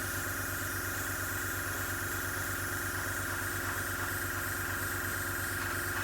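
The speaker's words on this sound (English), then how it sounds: "I think the airbrush must be running probably between about 10 and 15 psi." An airbrush sprays AK Interactive True Metal paint at low pressure, a steady close hiss with a faint compressor drone underneath, continuous and unbroken, with no talk.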